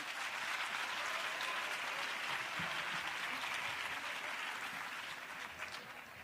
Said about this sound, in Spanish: Otro aplauso por cumplir el tiempo